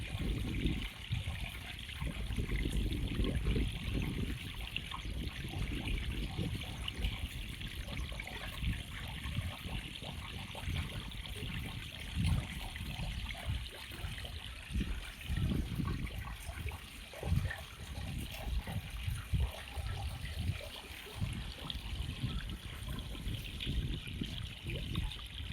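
A steady stream of jeevamrut liquid fertiliser runs through a cloth filter on an organic banana farm, a close, continuous trickling gush that holds level with no talk.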